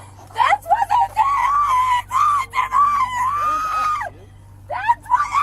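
A woman being held in handcuffs screams in long, shrill, wavering bursts, loud and close. A steady low hum runs underneath and there are brief breaks between cries.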